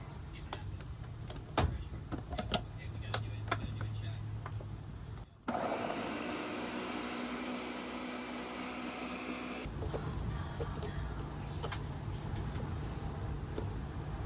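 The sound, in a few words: blender blending hummus with olive oil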